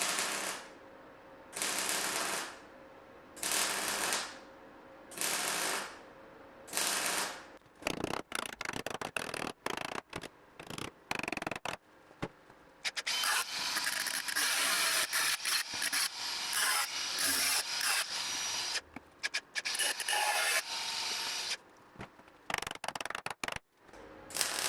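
A steel repair plate for a Saab 900 rust repair is cut to size with a power cutting tool, first in several short rasping bursts, then one long continuous harsh grinding, close and loud without talking.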